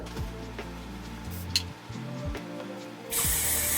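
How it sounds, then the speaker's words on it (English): Hairspray hisses from an aerosol can in one steady burst toward the end, mist aimed at the top of a Yaki straight V-part wig, following a few soft clicks and handling noises. "I'm gonna use some hairspray right here just to lay down the top"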